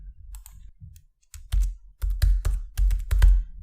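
Word typed on a computer keyboard, a run of crisp key clicks in an uneven rhythm that grows louder and more rapid toward the end, close and alone with no talk.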